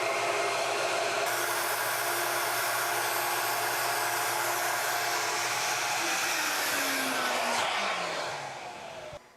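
A Ruwac Red Line industrial vacuum roars steadily and loudly with a broad whine, a tone shifting as the inlet is blocked, then winding down near the end; no talk.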